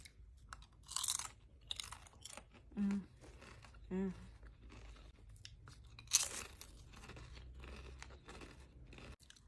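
Crunchy Lay's potato chips from Malaysia, garlic-flavoured, being bitten and chewed up close in crisp snapping bursts, with bag crinkles and a person talking in between bites.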